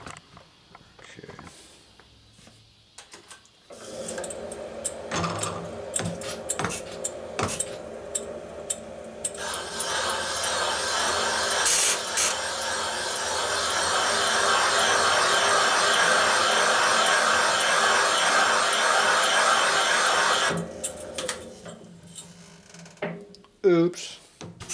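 Cutting tool machining material out of new Harley-Davidson Screamin' Eagle 110ci touring cylinder heads, a sustained loud grinding whir building steadily for about fifteen seconds before stopping abruptly, with clicks and handling noises around it.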